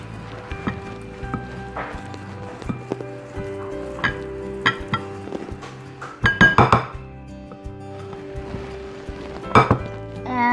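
Almond chocolate chip granola ingredients being stirred in a bowl, with intermittent spoon clinks and scrapes, a few louder knocks near the middle and end, over a faint tonal background.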